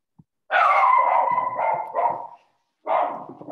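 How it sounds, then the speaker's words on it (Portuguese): A puppy gives a short yip, then a long run of barking and whimpering whines, pauses briefly, and resumes. It sounds close and indoors, with no talking. "Ainda por cima tenho aqui um cachorro."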